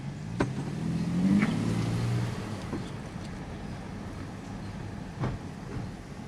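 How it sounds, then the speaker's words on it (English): A Toyota Tacoma pickup engine with a cold air intake rumbles low and steady, swelling briefly as it revs, with a few sharp clicks and knocks over the drone. "I definitely like that engine sound."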